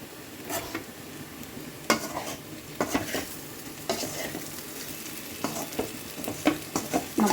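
Boiled potatoes are stirred in a frying pan of hot oil with asafoetida, giving a steady sizzle broken by irregular scraping strokes of a spoon against the pan, close and alone.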